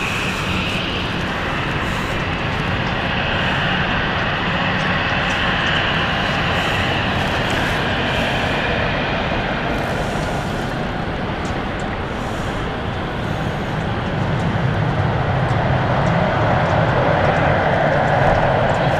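A jet aircraft just landed from Amsterdam at London City Airport rolls out with a steady loud engine roar and broadband whoosh that holds for nearly twenty seconds, swelling slightly toward the end.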